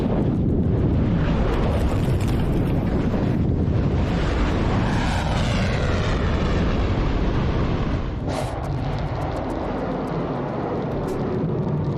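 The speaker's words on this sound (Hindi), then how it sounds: "हूती ने इजराइल के अश्केलोन शहर पर एक बार में कई ड्रोन बरसाए हैं" Drone attack on the city of Ashkelon, Israel: a loud, sustained roaring rush with wind buffeting the microphone, a sharp burst around two-thirds through, then a slightly quieter continuing rumble, with no speech.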